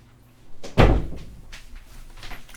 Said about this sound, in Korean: 세탁기 돌아가는 소리가 나서 문을 닫을게요.